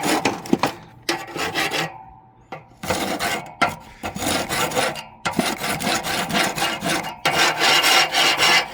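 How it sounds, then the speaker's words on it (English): A grill cleaning tool scrapes and scrubs across metal grill grates in loud, rough, rasping strokes, arriving in repeated bursts separated by short pauses, close up with no talking. "And then you can use this side, scrape the top, and then the pad here to clean it."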